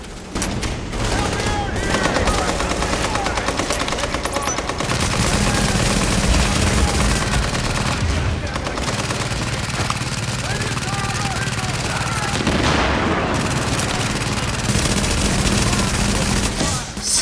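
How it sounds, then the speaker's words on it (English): A deployed turret fires during a combat mission in the video game The Division, giving sustained rapid gunfire mixed with a helicopter-like drone, all dense and loud throughout, with a player's voice speaking over parts of it. "Oh man, that turret is so good!"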